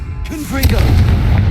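A Confringo blasting spell is cast in Hogwarts Legacy: a short shouted incantation leads into a loud, booming explosion that rumbles on as a dense low roar.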